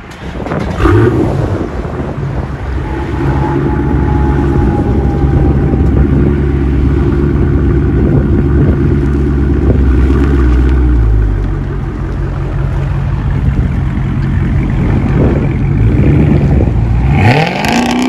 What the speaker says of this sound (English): 2016 Dodge Charger 392 Hemi, royal purple or crazy purple or crazy plum purple SRT.